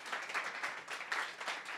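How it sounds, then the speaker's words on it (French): A live audience at a French professional-development talk applauds a presenter named Laura, steady clapping from many hands with fluctuating intensity, moderately distant, no talking over it. "vous pouvez applaudir Laura"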